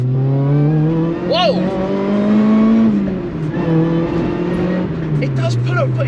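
A supercharged Honda Prelude track car pulling hard, its engine note climbing steadily under load, easing through a shift and then rising again from inside the cabin, with a brief excited exclamation and a supercharger whine above the engine.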